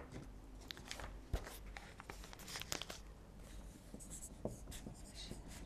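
Homework is written out by hand, pen scratching quietly on paper in short irregular strokes with occasional paper rustles, close and faint.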